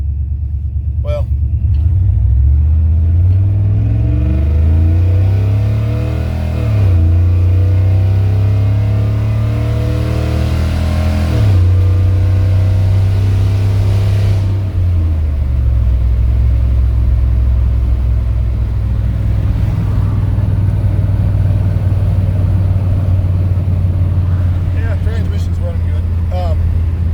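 A 1990 K2500 truck's engine, fitted with a 4L80E automatic and a rev limiter set near 5200 rpm, revs up in steady loud pulls, dropping pitch at each gear shift, three times in a row, then settles into a heavy rumble.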